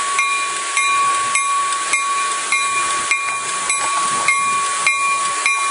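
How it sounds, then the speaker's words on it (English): A Coaster commuter train slows to a halt at Oceanside, giving a steady hiss with a sustained high squealing tone and regular faint clicks throughout. "Whoa, looks like the train's coming to a halt here."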